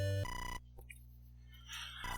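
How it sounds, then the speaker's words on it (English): A synthesized telephone ring from the NES game Mother (EarthBound Beginnings), chiptune tones cutting in over steady electronic background music, short and fairly loud. "Oh, the phone is ringing."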